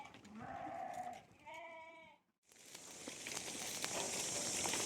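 A flock of sheep heading back to the fold in the evening, bleating in several overlapping calls at moderate distance, followed by a brief lull and then a broad rush of outdoor noise.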